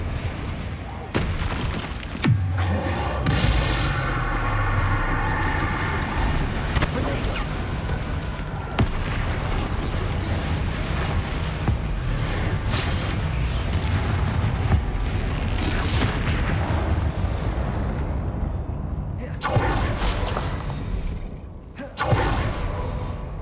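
Spell combat in the Hogwarts Legacy video game: a dense, continuous barrage of magical blasts, booms and impacts, loud and layered throughout, with bursts of explosion-like hits and a brief lull near the end.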